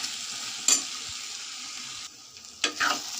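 Chopped tomatoes with turmeric and salt cook in a pan with a soft, steady sizzle, broken by a few sharp scrapes and clatters from stirring. The sound is close and moderate, and nobody speaks.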